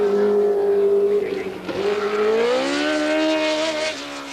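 A race car engine at the 1981 Dubai Grand Prix roars loudly, its pitch rising as it closes in fast, dipping briefly before climbing again to a sustained high whine.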